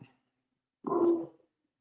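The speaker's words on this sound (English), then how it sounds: "let me know if you guys can hear this dog barking or not." A single short bark from a dog, fairly close, standing alone after a faint brief sound at the start.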